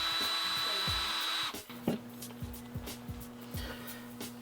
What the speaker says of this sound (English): It's a chamfering tool. It's going to put a conical shape on here.